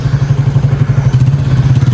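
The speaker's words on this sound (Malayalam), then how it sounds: "ബൈക്ക് ടാക്സിയാണ് ഈ കാണുന്നത്." A motorcycle taxi in Leticia on the Amazon rumbles past close by, its mid-pitched engine throbbing steadily and loudly for two seconds with no voices.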